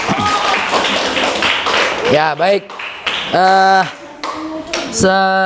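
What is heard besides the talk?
students clapping for group 3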